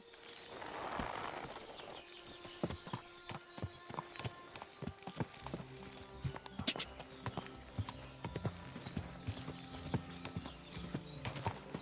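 Horse hooves clip-clop in the video game Kingdom Come Deliverance 2, a steady run of sharp, moderately loud hoofbeats with a brief whinny-like sound near the start and faint ambient background.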